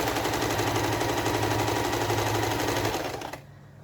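Steady rapid chatter of a sewing machine stitching in the ditch along quilt binding, loud and close, running continuously for about three seconds before stopping abruptly.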